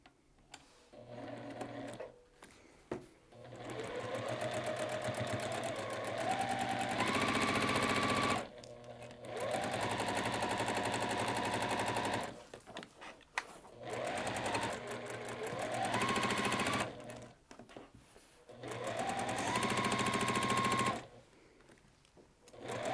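Sewing machine stitching a T-shirt quilt, running in several sustained bursts with short pauses between them, its motor whine rising in pitch as each run speeds up, close and clear with no talk.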